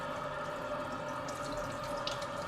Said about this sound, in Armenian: միսը մեր լվանում ենք հոսող ջրի տակ